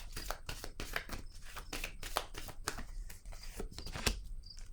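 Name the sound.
placing a tarot card down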